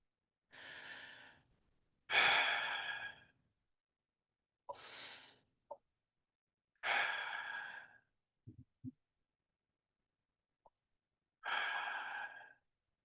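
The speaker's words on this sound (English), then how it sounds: "Take 3 deep breaths." Deep, slow breaths during a guided relaxation, several long airy inhales and exhales spaced across a quiet room, close and fairly soft, with small clicks between them.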